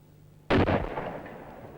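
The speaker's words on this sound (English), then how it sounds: "You ready for the big bang now, Mr. Walton?" A single sharp rifle shot from a marksman outdoors, a loud close blast that cuts in abruptly after brief quiet and then decays into a lingering rumble and echo.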